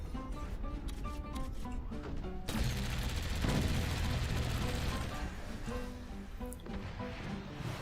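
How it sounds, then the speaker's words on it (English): Cannon fire in the physics-based RTS game Forts during a livestreamed community match, heard as dense, continuous booming and crashing impacts with a loud burst midway, layered over background game music. "The cannon shots are doing well."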